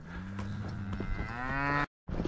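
Ranch cattle low loudly and close by, one long drawn-out moo rising in pitch for nearly two seconds, cut briefly before more bellowing begins, with no talking.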